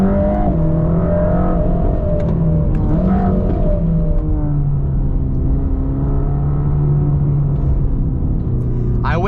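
A Mercedes-AMG GT Black Series drives on a public road, its engine giving a steady loud rumble with rising and falling pitch from inside the cabin, under speech.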